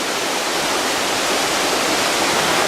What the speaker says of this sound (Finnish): tän joen nimi on Eau Rouge, eli tarkoittaa suomeksi punainen vesi